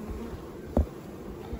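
Honeybees hum around a brood frame during spring hive management, a soft steady buzz with one brief louder knock in the middle.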